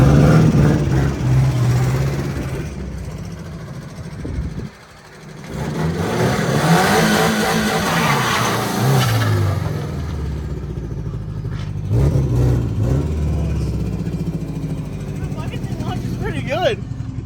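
A DIY turbocharged Subaru with all-wheel drive launching, its engine revving loudly and rising in pitch, dropping briefly and then pulling hard again, with people talking over it.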